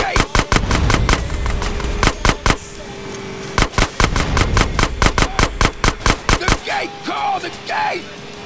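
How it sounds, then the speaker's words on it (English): Repeated gunfire in GTA San Andreas as a gate is shot out: loud, sharp shots in quick bursts with short pauses between volleys, close and dominant, with a brief voice near the end. "Shoot out the gate."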